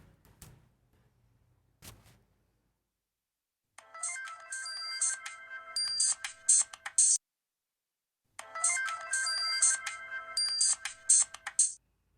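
A phone ringtone plays two long bursts of electronic melody separated by a short pause, after a couple of faint knocks.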